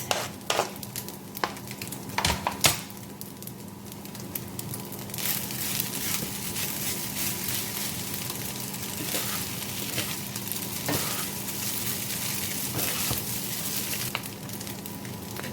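Baby pakchoi with spring onions sizzles steadily in a hot pan, with a continuous fry hiss broken by occasional scraping and stirring clatters, loudest near the start.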